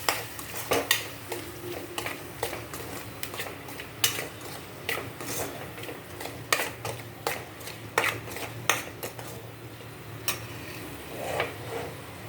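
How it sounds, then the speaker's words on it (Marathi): Spices including garam masala being sautéed in a pan for mung bean usal, with a low sizzle under frequent light metallic clinks and scrapes of a spoon stirring, moderately close, with no talking. "हे सर्व मसाले ॲड झाल्यानंतर थोडंसं आपण परतून घेऊ।"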